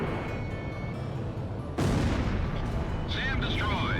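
An explosion as a SAM site is destroyed in the Ace Combat Zero flight game, a sudden loud burst that rumbles on, followed by a brief warbling electronic tone.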